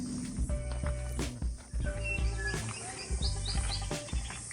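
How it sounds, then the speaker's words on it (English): Birds chirp and call in deep forest on Motūara Island, bright short tweets and whistles scattered over a busy background of rustling and footsteps nearby. "There are a lot of cool nature and some bird sounds we hear."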